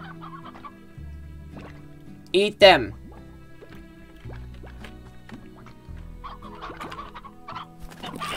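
Chickens in the video game Slime Rancher cluck in a quick, loud burst among game effects and background music, with a person talking over the scene.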